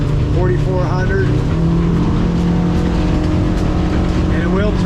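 A 2022 Northriver Seahawk boat's engine holding a steady drone at cruising speed, about 33 mph at 4,400 rpm, loud and close, with wind and water noise over it.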